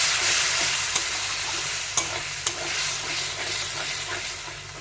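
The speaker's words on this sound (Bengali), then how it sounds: "এবার দিয়ে দেবো টমেটোর পেস্টটা, দিয়ে আরও একটু কষিয়ে নেব।" Spice masala with tomato paste sizzles and fries in a pan, a dense continuous hiss punctuated by several sharp clicks of a spatula stirring against the metal, steady and close with no talking.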